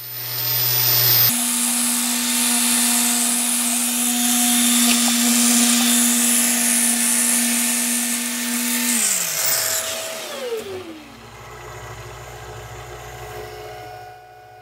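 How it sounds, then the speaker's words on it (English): A power sander works a wooden bowl spinning on a lathe, giving a steady loud motorized whine and hum that holds for several seconds, then winds down in pitch as the machine slows and stops. "I sanded it down, first with power, then by hand"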